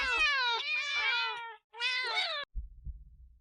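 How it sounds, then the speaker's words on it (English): Cats in the video game Do Not Take This Cat Home yowl in two loud, drawn-out meows, close and overlapping, followed by a low thumping rumble. "Oh no! Cat attack!"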